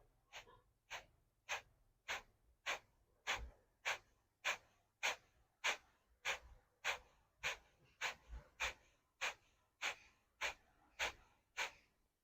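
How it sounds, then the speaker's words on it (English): Kapalabhati yoga breathing: about twenty sharp, forceful nasal exhalations at a steady, roughly two-per-second rhythm, close and clear with brief quiet gaps between each puff. "Every time when you exhale in Kapalabhati, you are drawing the navel to the spine."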